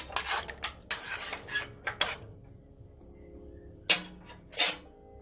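Cooked cowfoot scraped and clattered from a pressure cooker pot into another pot, a few sharp metallic scrapes and knocks in bursts, close and fairly loud, with quiet gaps between.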